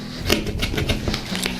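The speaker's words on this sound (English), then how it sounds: "what we're going to do next is we're going to cut our zipper." Scissors cut through a zipper, giving a quick series of sharp snipping clicks, close and fairly quiet, with no talking.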